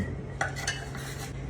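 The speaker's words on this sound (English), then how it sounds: "I'm just gonna go ahead and pop them into my crock pot here." Potato chunks go into a crock pot, heard as a few close, light knocks and clatters against the pot over a low steady background hum, with no voices.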